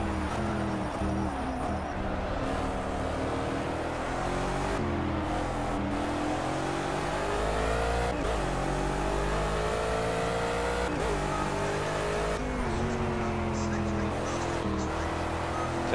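A Gumpert Apollo S race car engine in Project CARS at the Nürburgring drones steadily throughout, with rising and falling revs through gear changes and corners, loud and continuous.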